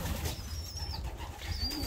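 Pigeons coo softly in a breezy loft among perches, a low murmuring call repeating at moderate distance over steady airy background noise.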